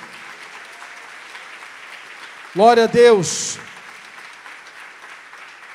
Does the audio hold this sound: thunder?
no